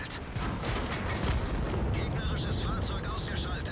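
Heavy cannon fire and rumbling blasts from tank combat in World of Tanks, a loud, continuous roar of artillery and explosions with mechanical clatter.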